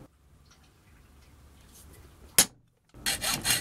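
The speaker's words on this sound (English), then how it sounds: "then cutting out with a hacksaw" A hacksaw cuts through metal stock for a DIY CNC axis part, quiet rubbing at first, then a sharp stroke followed by a burst of loud, rasping back-and-forth strokes near the end.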